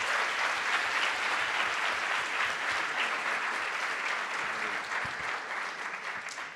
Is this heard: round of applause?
yes